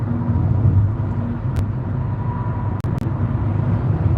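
Interior of a car while driving, a steady low engine and road rumble filling the cabin, with a couple of brief clicks or dropouts near the end and no talking.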